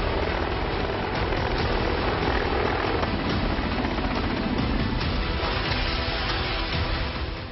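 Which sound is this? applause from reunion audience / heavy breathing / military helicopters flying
military helicopters flying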